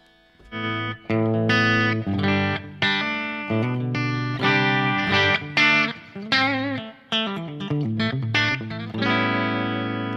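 A distorted electric guitar through an amp simulator preset modeled on a Mesa Boogie JP-2C plays a melodic riff of sustained, chorus-tinged notes with light reverb, loud and up close, no voices.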